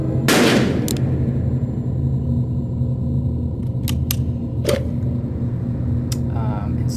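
Video game sound inside a metal-surfaced ship with reverb applied: a sharp blast at the start, then several short clicks and metallic hits that ring out over a steady low rumbling hum.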